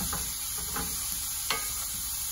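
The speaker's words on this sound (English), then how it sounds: "Give it a quick stir." Seeds sizzling in a hot pan as a spatula gives them a quick stir, a soft constant fry with a few light scrapes, fairly quiet and with no voice.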